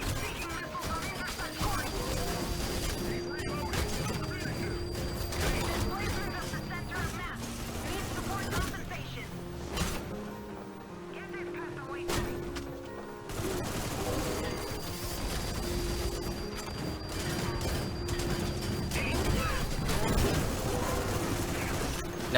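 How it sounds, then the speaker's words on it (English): Rapid hail of gunfire in a video game finishing off a boss who bombards the player, bursts of shots layered over dense game music and effects, loud and continuous with a brief lull midway. "Using a hail of glorious gunfire."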